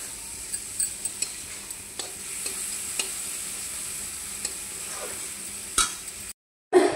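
Dried fish bora frying in a pan, a soft steady sizzle broken by occasional sharp utensil clicks against the pan, ending in a brief cut and a louder knock.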